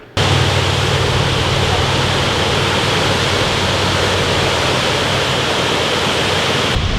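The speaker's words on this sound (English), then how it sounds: "there's like a little waterfall back there" A small waterfall pours in a steady, loud rushing hiss that fills the whole stretch without pause, close to the listener.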